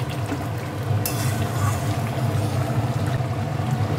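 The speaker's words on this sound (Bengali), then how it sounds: "টকবক করে ফুটছে।" Potol and prawn curry boiling in a pot, giving a continuous low bubbling and simmering burble, with a brief sharper clink about a second in.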